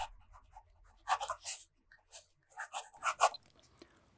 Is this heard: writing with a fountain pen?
yes